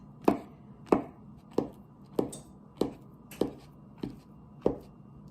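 A knife chops bananas into chunks for banana muffins, eight crisp, evenly spaced thuds on a cutting board, close and clear against quiet surroundings.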